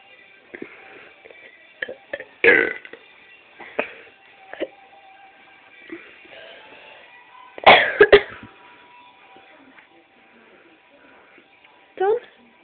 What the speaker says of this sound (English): You've been burping for a minute.